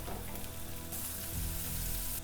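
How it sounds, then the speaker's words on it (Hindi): Quarter cup of onion frying in a spoonful of butter, a steady close sizzle and crackle like light rain that grows slightly louder near the end, with no talk. "प्याज को नरम होने तक भूनेंगे"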